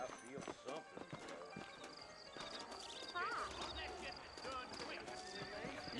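Horse hooves clip-clop in the Old West game Red Dead Redemption, with whinnies mixed in, heard under steady talk and background game sound.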